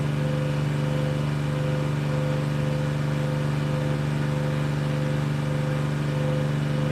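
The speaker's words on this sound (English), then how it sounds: "That is an air compressor they've got to run it." An air compressor runs continuously nearby, a loud steady mechanical drone with a strong low hum and constant broadband noise, no voices over it.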